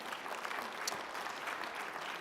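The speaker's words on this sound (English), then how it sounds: "A nice round of applause for them" An audience at an awards luncheon applauds steadily, a dense even wash of clapping from a crowded room that holds at constant loudness throughout.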